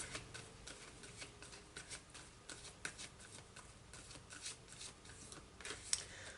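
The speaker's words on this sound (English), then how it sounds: "I'm going to pull some Archangel cards and see what they have to say for you." Archangel oracle cards shuffled by hand in a quiet room, a continuous soft riffling and rubbing of card stock with small taps and flicks as cards are pulled, faint and close with no talking.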